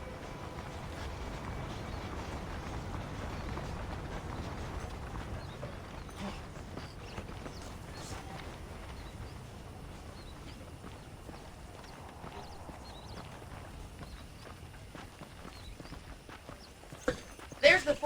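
Horse hooves clip-clop steadily in the video game Red Dead Redemption, muffled and mid-distance, with indistinct voices murmuring underneath.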